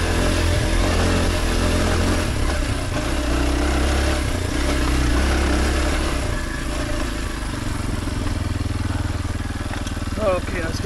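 A Kawasaki KLX 230 dirt bike engine drones steadily while being ridden on a trail, a loud, close, mid-pitched hum that shifts slightly as it works along.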